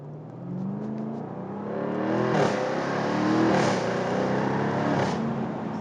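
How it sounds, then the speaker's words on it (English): A Jaguar F-Type R roadster's 5-litre supercharged V8 revs up and holds a loud, rising engine roar with a high supercharger whine, close by and alone for several seconds. "Underneath that hood, what you're getting is a 5-liter supercharged V8, and it delivers on power and sound."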